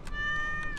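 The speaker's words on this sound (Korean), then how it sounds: "헐 고양이네" A cartoonish cat meows twice in the farming video game Stardew Valley, short soft mews near the start and end over a steady tonal game-music drone.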